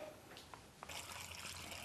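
Filtered water pours into a pot of pumpkin and sweet potato soup, a faint, continuous splashing trickle that swells and becomes steadier partway through, heard close with no voices.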